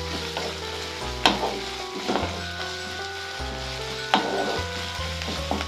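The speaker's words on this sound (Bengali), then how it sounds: "এরপর আমরা এর মধ্যে দেবো আদা রসুন বাটা দিয়ে আবার আমরা ভালো করে এটাকে কষিয়ে রান্না করে নেব" Ginger garlic paste fries in a pan for paneer butter masala, a gentle sizzle broken by several sharp stirring knocks and scrapes of the spoon. Soft background music runs throughout.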